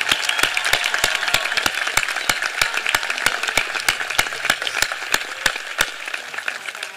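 Audience applause at a 2023 high school graduation ceremony for graduates joining the military, a dense steady wash of many hands clapping with sharp individual claps popping through, moderately loud and sustained throughout without speech.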